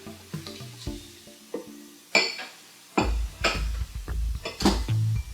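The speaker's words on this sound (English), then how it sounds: "we want to make sure that it is simmering and frying up" Chopped onions in a pan for vegan sausage and okra, with a soft sizzle under repeated clinks and scrapes of a utensil stirring against the cookware, sounds rising in bursts.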